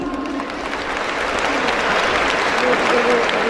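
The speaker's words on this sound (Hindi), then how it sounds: "हमारी महिलाओं के लिए तालियां प्लीज" An audience at a women's event applauds, a full, sustained wash of clapping that builds slightly and stays loud, with a faint voice or tone briefly over it.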